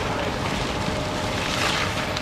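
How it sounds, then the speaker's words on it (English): Strong wind roars and buffets steadily around a burning house in McHenry, with dense broadband noise throughout that may carry crackling wood from the fire, loud and continuous with no voices. "You can hear the wind and the wood crackling as the fire burned in McHenry."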